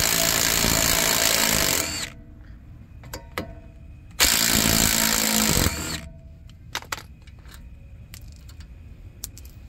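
Power tool driving T40 bolts out of a Tesla Model Y brake caliper: two loud sustained whirring bursts of about two seconds each, followed by quieter clicks and clanks of tools and metal parts.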